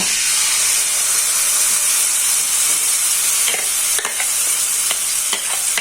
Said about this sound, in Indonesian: di sini untuk bumbunya ini akan saya gongso ya